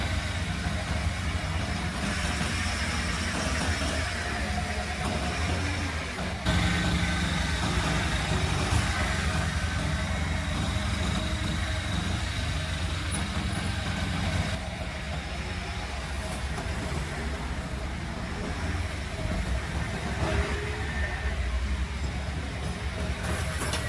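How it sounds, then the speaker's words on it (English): A large gray heavy truck hauling a massive pipe, inching along a narrow forest road: a continuous low engine rumble and drone, steady and fairly loud, with no speech over it. "The engine roared softly, the wheels slowly inched forward"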